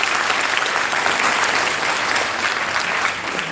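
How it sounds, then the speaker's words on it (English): A large auditorium audience at a campus opening ceremony claps energetically, a dense continuous wash of applause that stays loud and even throughout, thinning a little at the close. "make sure that your round of applause is as active and as energetic as it can be"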